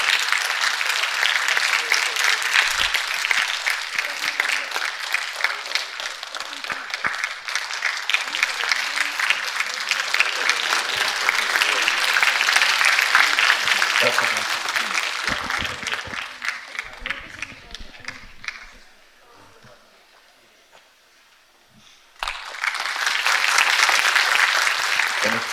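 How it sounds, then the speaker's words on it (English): Loud applause from the audience at a live hosted show runs long, drops briefly to near quiet around twenty seconds, then surges again, with voices faintly under the clapping. "A huge round of applause."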